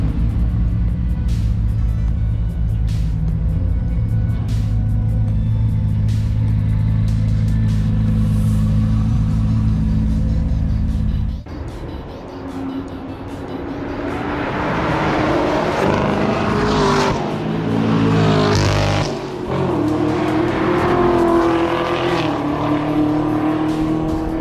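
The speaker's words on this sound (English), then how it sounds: "I have to admit, the Camaros sound nicer than the Corvettes, or at least they're louder." Camaro and Corvette sports cars, including ZL1, Z06 and Black Wing models, roar past on a racing circuit in Ontario, engines loud and close, one fading before another swells and passes with rising and falling pitch.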